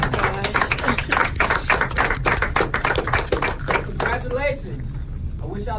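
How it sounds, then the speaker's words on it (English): Audience applause after a military enlistment oath, a burst of brisk overlapping handclaps that holds for a few seconds and then thins out as voices take over. "Give me a round of applause."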